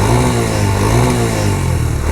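Suzuki Marauder motorcycle exhaust revs up and holds a steady, fairly loud mid-range roar with a slight swell near the middle, close by and with no voices.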